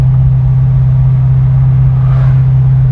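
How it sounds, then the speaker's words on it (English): A 1970 Dodge Challenger R/T SE with a 440 Magnum big-block V8 runs with a deep, steady low rumble close up, a slight rise near the end and no talk over it. "Man, this is a great car. The old big block."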